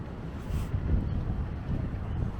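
Strong gusting wind roars across the microphone outdoors during a homeless encampment clearing in St. Paul, a steady, dense rumble with no pauses.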